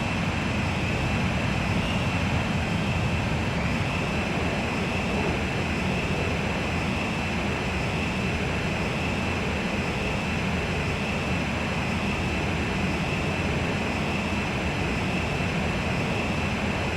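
Jet aircraft engine noise during aerial refueling in the Ace Combat 5 video game, a loud continuous broadband roar with a steady tonal hum and no change over the whole stretch.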